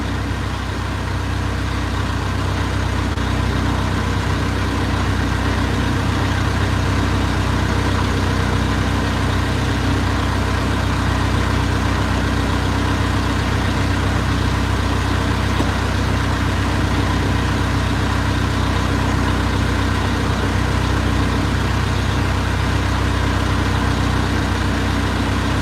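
A fishing boat's engine runs at low RPM while cruising at about three knots off Yakutat, a loud, steady, unbroken low drone with no talk.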